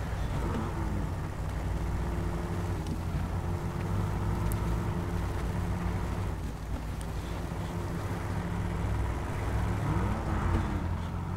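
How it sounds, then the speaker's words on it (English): Jeep Wrangler engine and throaty exhaust in SnowRunner, a steady low droning rumble running continuously and fairly loud, with faint wind-like noise layered over it. "nice throaty exhaust note, this Wrangler"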